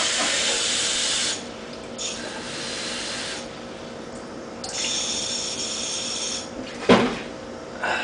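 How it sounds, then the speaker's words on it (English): Six cups of water boil in a pot for a Mr. Beer West Coast Pale Ale brew, giving off a steady steam hiss that drops and swells, with a brief clatter near the end. "My water has come to a boil."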